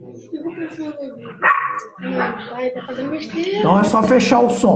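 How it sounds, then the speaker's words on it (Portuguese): A dog barks and yips in short irregular bursts through a viewer's phone during a live stream, fairly faint and mixed under someone talking. "Tem um cachorro latindo aí na live"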